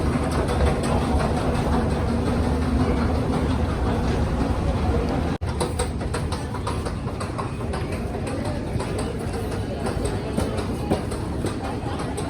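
An MRT train pulls into a station in Kuala Lumpur, Malaysia, with a steady, loud rumble of wheels and engine that fills the whole clip. Indistinct voices murmur in the background.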